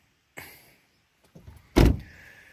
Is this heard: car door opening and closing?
yes